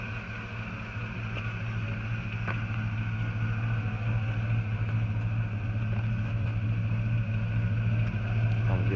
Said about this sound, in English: set the phone back here so that way you can get a sound of the exhaust